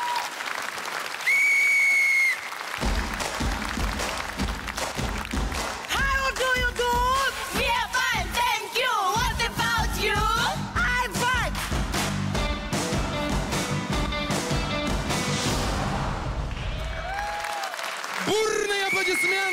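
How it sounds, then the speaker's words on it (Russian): Enthusiastic studio audience applause at a comedy show as a favored US women's team takes the stage, a loud, sustained clapping roar running under music and a host's voice throughout. "бурные аплодисменты!"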